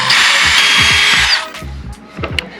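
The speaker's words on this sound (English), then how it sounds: "we'll use the actual 3/16 bit that we need to drill them out to size" A power drill with a 3/16 bit bores holes in a Perception kayak hull for a trolling motor mount, whining loudly for over a second before stopping, followed by handling clicks and knocks.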